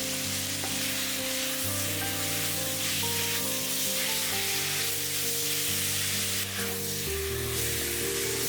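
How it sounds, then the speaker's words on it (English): Pad see ew rice noodles sizzle and sear in a hot pan with the sauce, a loud, steady frying hiss that runs the whole time with no talk. "Allow the noodles to sit for a few seconds before mixing it up. This will allow some of the noodles to sear and char."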